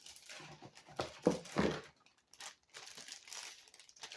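Dropped plastic wrapping crinkling and rustling in a workshop, a few short, faint crackly bursts with quiet pauses between them.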